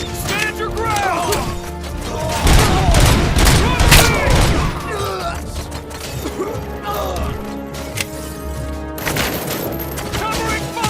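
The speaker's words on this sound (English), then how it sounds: "Covering fire!" Gunfire in the video game RoboCop: Rogue City, dense bursts of shots and impacts over a constant music and ambience bed, loudest in the middle stretch, with shouted in-game voices.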